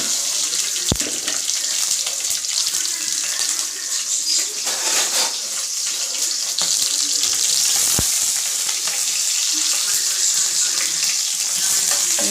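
Curry leaves and slit green chilies hit hot tempering oil after mustard seeds and urad dal, crackling and sizzling steadily and close up, with a couple of sharp pops.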